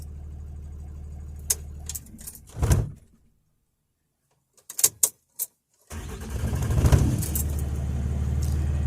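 Cummins diesel truck engine running, then cut off into brief near silence broken by a few clicks and knocks, before cranking and firing back up into a loud, steady close-up idle, no speech.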